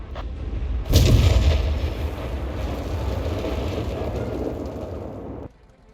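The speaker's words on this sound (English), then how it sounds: "Stuka is dive bombing." Stuka JU-87 dive bomber attack in the video game Company of Heroes 3: a heavy booming explosion bursts in, then a loud rumbling roar of blast and engine noise sustains for several seconds before cutting off.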